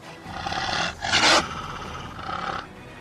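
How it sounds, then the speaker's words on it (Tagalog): A dog growls and roars at the height of a Filipino aswang horror story, a loud rough snarl building to a sharper burst midway before easing into a lower rumble. "Napahiga si Blesica sa lupa at nakapatong ang mga paa ni Vicencio sa katawan nito bilang aso at nagaangil."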